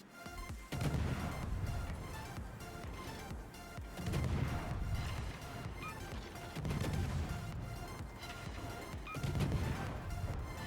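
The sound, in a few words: secondary guns firing in World of Warships video game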